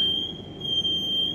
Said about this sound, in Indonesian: Nah, ini sudah nyala, muncul alarm emergency stop.